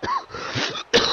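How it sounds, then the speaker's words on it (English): A single person coughs twice in quick succession, close and loud, with a short gap between the harsh bursts and no speech. "Sorry, I have to cough again."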